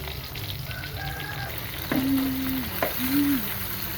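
Marinated chicken sizzles and crackles steadily in oil in a pan, a constant bright frying hiss with a couple of faint tonal chirps over it.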